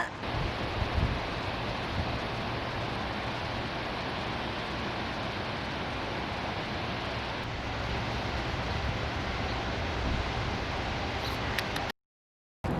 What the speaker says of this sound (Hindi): ये देखिए झरना।